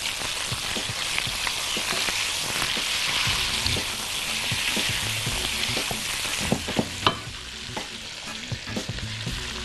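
Chicken pieces sizzle and fry in a hot pan while being stirred and sautéed, a steady close crackle broken by frequent sharp clinks and scrapes of a utensil against the pan.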